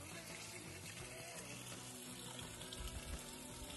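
Cold water pours steadily from a trail water source on the Pacific Crest Trail in Oregon, a soft continuous trickling and splashing, faint and alone.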